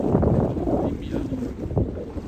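Steady wind rushing over a sailboat beating close-hauled in about twelve knots of breeze off the Greek island of Euboea, a loud broadband roar with microphone buffeting and faint sounds of water and a voice beneath.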